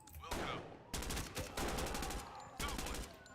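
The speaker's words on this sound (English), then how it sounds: "Okay, shots in here. And we got a shooter." Gunshots from a shooter in the tactical game Ready or Not: a few loud, close bursts of rapid fire separated by short pauses, dense and punchy.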